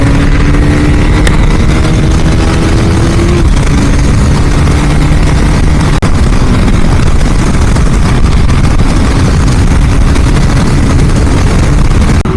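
A superbike cruises on the highway on a new tyre, its engine a loud, steady drone buried in constant wind roar throughout, with no voices.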